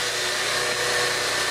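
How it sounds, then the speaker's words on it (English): Aerosol contact cleaner sprays in a steady, continuous hiss onto the dirty parts of a Sharp Twincam boombox, broadband and unbroken for the whole stretch, close and fairly loud with no talking. "now I'm going to give everything a blast with our contact cleaner"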